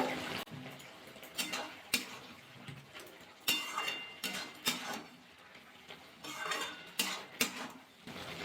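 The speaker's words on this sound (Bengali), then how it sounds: "ভালো করে একটু নাড়াচাড়া করে নিলাম" Bottle gourd greens being stirred in a pan, repeated close scraping and clinking of a utensil against metal in irregular strokes over a light sizzle.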